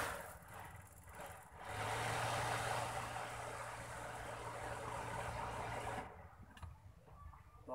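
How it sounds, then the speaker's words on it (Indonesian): A 1983 Daihatsu Charade engine runs at a steady, rough idle for several seconds, a low constant hum close by, then cuts off abruptly with only faint background noise left. "kita dengar dulu nih suara mesinnya"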